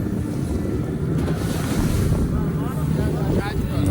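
Fishing boat running out at sea on a full-day drag-net trip, engine drone blending with steady wind buffeting and wave wash, loud and continuous throughout.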